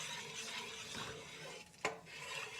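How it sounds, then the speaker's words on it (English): Roux for seafood gumbo being stirred in a pot, a steady soft scraping and rubbing of the spoon across the bottom with a faint sizzle, a sharp clink near the end, no talking. "just keep stirring, because you do not want to burn this roux"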